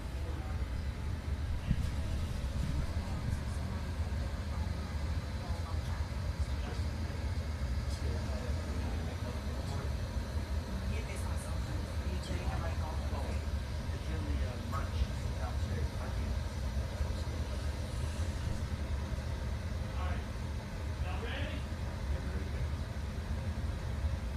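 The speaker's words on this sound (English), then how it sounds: "Here's a late entry rolling onto the Speedway" Dirt track race car rolling onto Pike County Speedway before qualifying at the Jambalaya 100, a steady engine rumble under continuous crowd and track ambience, with a voice talking over it throughout.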